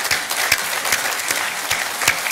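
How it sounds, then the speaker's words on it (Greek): Audience applause at a Greek government presentation of the national space agency, dense steady clapping from a crowd filling the room throughout, no voices over it. "θέλω να σας ξαναζητήσω ένα χειροκρότημα από τώρα για τους ανθρώπους"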